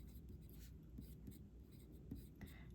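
Handwriting in a quiet close-up ASMR chemistry lesson, faint scratchy pen strokes on paper in a short, steady burst, heard alone.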